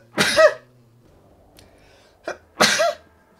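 Two sharp human sneezes burst out close up, about two seconds apart, each a loud explosive snort with near silence between them and a faint breath in before the second.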